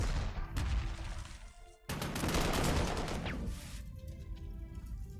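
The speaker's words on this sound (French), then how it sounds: "Il y a quand même pas mal d'artillerie, hein." Artillery fire in a WWII strategy video game set at El Alamein: loud, dense volleys of blasts and crackling impacts, with a brief lull near two seconds before another sustained barrage.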